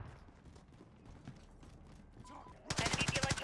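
Rapid automatic gunfire in Call of Duty bursts out near the end as a loud run of evenly spaced cracks, after a stretch of quiet game sounds and muffled voices.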